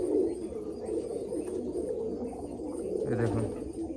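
Pigeon offered for sale near Baruipur, Kalyanpur rail station, giving soft low coos that run steadily close by, with a fuller throaty coo toward the end.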